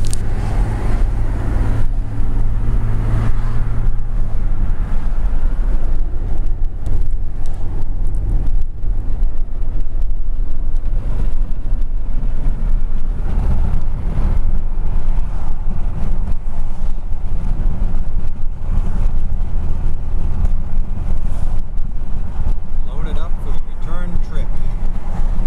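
Truck driving on the road with a constant low engine rumble and heavy wind buffeting across the whole stretch, steady and close, with no talk.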